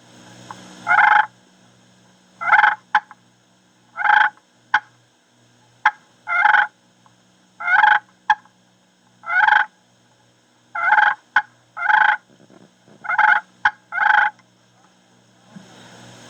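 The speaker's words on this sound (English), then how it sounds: "Then add a periodic cluck, and you'll have the cluck and purr." A slate call gives a run of turkey clucks and purrs, a dozen or so short bursts with sharp cluck clicks between them, close and steady, no voices.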